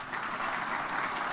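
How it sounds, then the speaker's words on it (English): Steady applause from the audience at a university athletics hall of fame induction ceremony, dense and even clapping with no voices over it. "Give them a round of applause."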